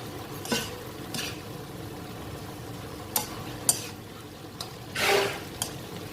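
Fish fried and stirred with chili and butter in a pan: a soft background sizzle broken by scattered scrapes and clinks of a utensil against the pan, quiet and close.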